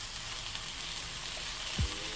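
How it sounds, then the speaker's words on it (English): Coconut flakes sizzling in a dry pan while being stirred, a steady soft crackling hiss throughout with a brief low scrape near the end. "you just need to keep stirring"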